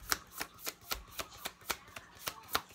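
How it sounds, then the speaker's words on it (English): Oversized oracle cards being shuffled by hand, a steady run of crisp riffling slaps about every quarter second, close and clear with no talking. "The cards are just so big to shuffle."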